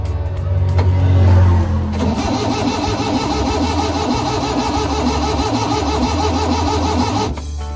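An overhauled multicab engine is cranked by the starter, catches, and then settles into a steady, loud idle with an even, rapid beat, heard close up with no talking.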